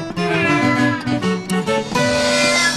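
A female cat indoors gives a run of drawn-out, wavering meows up close, loud and nearly continuous with brief breaks, with no speech over it.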